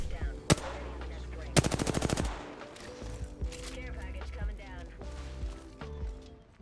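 Automatic rifle fire in the battle royale game Apex Legends, a sharp shot then a rapid burst emptying a full magazine, loud over game ambience and music, followed by lighter shots and clatter while someone talks.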